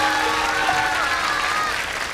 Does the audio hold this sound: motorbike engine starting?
no